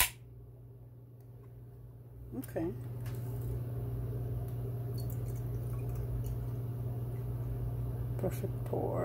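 A fruited sour beer with papaya, banana and soursop is poured, giving a liquid glugging and fizzing stream after a short quiet start, steady and close over a low electrical hum.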